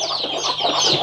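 Country chickens cluck steadily and close by at a free-range rearing farm, a dense, continuous chatter of hens with no voices over it.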